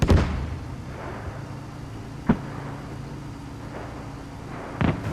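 A Tiger tank's cannon in the video game Squad: a heavy boom lands once near the middle, with another duller thump near the end, over a constant low rumbling engine drone.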